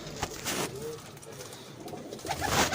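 Soft pigeon cooing nearby in a loft, with rustling and faint murmured voices in the background.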